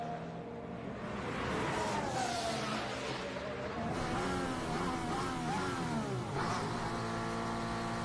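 A Formula 1 car brakes late into the narrow pit lane during Dutch Grand Prix practice, the engine note falling and wavering as revs drop, heard fairly far off and faint, with no voices.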